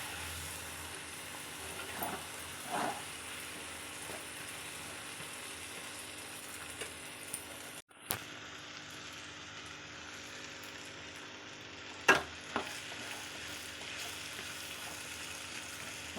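Prawn and drumstick curry is stirred in a pan in a village-style kitchen, with a faint, steady sizzle under soft scraping and a few sharp spoon knocks against the pan.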